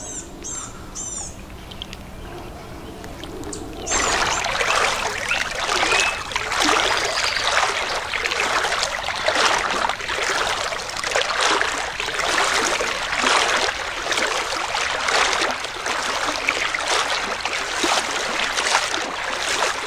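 Creek water flowing beside the Union Canal, a steady trickling and rushing stream, close and continuous after a quieter start.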